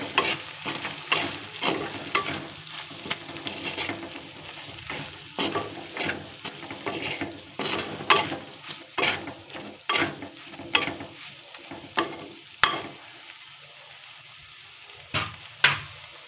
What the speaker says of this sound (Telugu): రుచికి తగినంత ఉప్పు వేసుకొని బాగా కలిసేటట్టు కలబెట్టుకోవాలి మంచిగా.